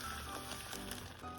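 Hamburger Helper sauce mix and a cup of salsa heat to a boil in a pan for a burrito skillet, giving a faint, steady bubbling and light sizzle throughout, with no talking.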